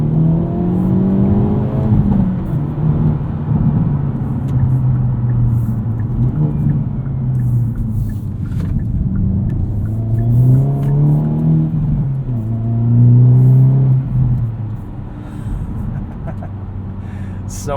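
A 2023 Hyundai Elantra N's engine rises through repeated revs during a launch from inside the car, a loud, continuous rumbling growl climbing and dropping with gear changes, with a voice talking over it at times.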